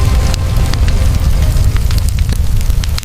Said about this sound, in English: All that remains now is fire, and the quiet, hungry crackle of consumption.